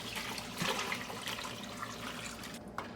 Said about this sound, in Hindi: अब इसके अंदर सूप डालेंगे, फिश सूप डालेंगे